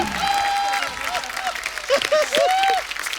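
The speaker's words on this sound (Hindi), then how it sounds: "जोरदार तालियां कपिल शर्मा के लिए" Studio audience applause on a comedy show as a comedian is cheered, with steady clapping joined by high, sliding whistle-like tones and some voices over the crowd.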